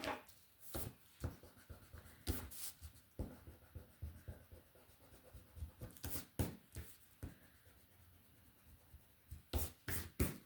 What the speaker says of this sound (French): Je vais gommer mes traits.